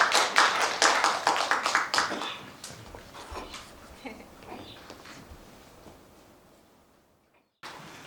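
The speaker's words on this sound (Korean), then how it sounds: "뜨거운 박수 부탁드리겠습니다" Audience clapping at a general meeting of the Korean forest therapy instructors' association, starting as a brisk burst of close claps, then thinning and fading out over several seconds before a short bump of noise at the end.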